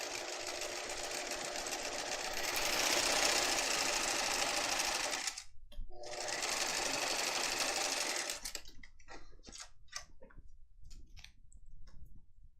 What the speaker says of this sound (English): sew right on that stitching you just did